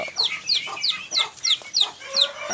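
Free-range chickens raised in open rice fields cluck in a steady, repeating series of about eight sharp, bright calls, close and clear with no talking.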